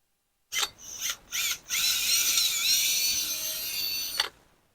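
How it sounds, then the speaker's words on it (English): A power drill boring holes in soil whirs in a few short bursts, then runs steadily for a couple of seconds before stopping, close and fairly loud. "just drill a hole about like so, every 16 inches."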